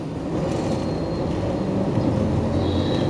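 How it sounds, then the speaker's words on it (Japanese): An Iyo Railway streetcar running on tram tracks along a road in Matsuyama, a continuous low rumble and rolling hum with faint wheel squeal, steady and fairly close. "こちら伊予鉄道の路面電車が走るところとなっております"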